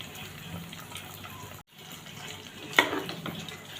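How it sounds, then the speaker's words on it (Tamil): Fried tempering for ven pongal is poured into cooked rice with a short wet pouring and splashing sound, broken by a brief silence and ending with a sharp sizzle-like splash. "இப்போது இதை நம்ம இந்த சாதத்தோடு ஊற்றிடலாம்"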